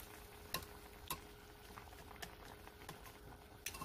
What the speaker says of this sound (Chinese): 将佢搅拌均匀。